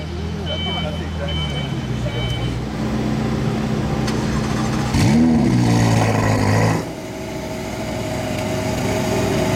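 Pagani Zonda LH exhaust on a Monaco street, blipped in a sharp rising rev around the middle before the valves shut and the note drops back, with a car engine idling throughout and a voice talking over it.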